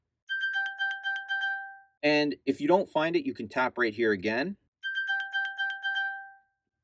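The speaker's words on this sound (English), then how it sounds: "It's actually going to ping your iPhone if it's lost or you can't find it, and you'll hear a very loud chime." An iPhone pinged from an Apple Watch Series 9 plays a loud, bright repeating chime of rapid tones, which stops while someone speaks and then sounds again.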